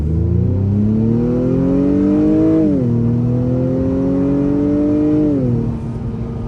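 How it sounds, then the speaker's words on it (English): 2021 Acura TLX A-Spec in sport mode accelerating at full throttle, the engine note rising steadily, dipping briefly at two upshifts and climbing again, loud and close from inside the car. "And we'll floor it."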